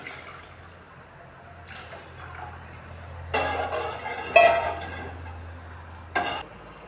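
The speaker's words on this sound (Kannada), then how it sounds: "ಈ ಕಾಯಿ ಹಾಲನ್ನು ಇದಕ್ಕೆ ಸೇರಿಸ್ತಾ ಇದ್ದೀನಿ." Coconut milk is poured into a simmering tomato gravy for egg masala, making a soft liquid trickle and splash with a few short bursts over quiet kitchen background.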